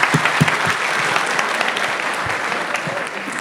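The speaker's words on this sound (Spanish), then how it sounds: "le estaban dando un aplauso por su conferencia. Otra vez, por favor" An audience applauds an engineer at the end of his lecture during an entrepreneurship and employability week event, steady dense clapping that fills the room for the whole stretch.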